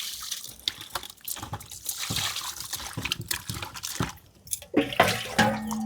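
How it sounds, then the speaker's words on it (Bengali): Chicken meat is washed under running water in an outdoor village cooking setting, with splashing, dripping and sloshing as the pieces are rubbed and handled up close and no talk. "এবার আমি মাংসটাকে পরিষ্কার করে ধুয়ে নেব।"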